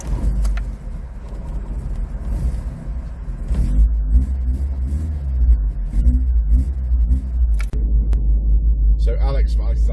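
A 1988 Austin Montego Estate with a 1.6 L engine drives along, its steady engine drone and road rumble filling the cabin while people talk over it.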